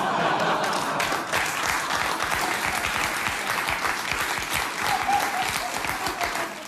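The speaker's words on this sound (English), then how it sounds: "Those are Democrats applauding." A political talk show audience breaks into sustained applause, a dense, steady roar of many hands clapping for several seconds with a few chuckles and voices mixed in, cutting off abruptly at the end.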